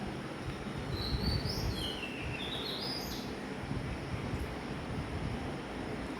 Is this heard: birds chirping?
yes